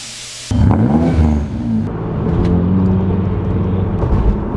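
A non-turbo Mini Cooper S Works, engine running up close with a steady exhaust rumble and whir that swells briefly as it revs, then settles to a smooth drone.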